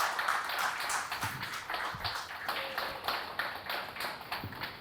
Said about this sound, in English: So can I have a big round of applause for Reema Mahajan?